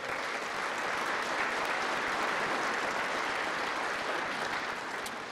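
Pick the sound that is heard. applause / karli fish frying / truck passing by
applause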